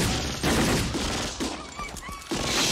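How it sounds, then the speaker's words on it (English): Loud, dense bursts of movie gunfire from the film Ronin (1998) crackle in rapid volleys, the shots overlapping into a continuous barrage. "fake gunshots"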